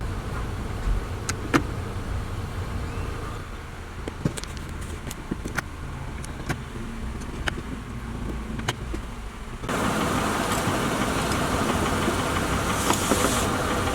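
A 2013-2019 Nissan Sentra with a CVT running, a low steady engine hum under scattered clicks and taps, growing louder and denser for the last few seconds, with no talking.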